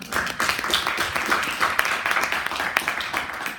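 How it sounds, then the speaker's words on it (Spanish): Steady applause from a crowd, a dense wash of clapping that continues at an even level throughout. "Un aplauso también"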